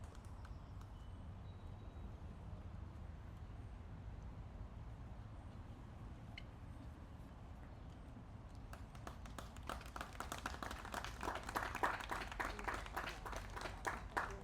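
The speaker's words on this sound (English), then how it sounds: "Nice round of applause, thank you." Faint, distant applause breaks out partway through at an outdoor veterans banner ceremony in Mashpee, growing into a scattered, sustained clatter over low background noise.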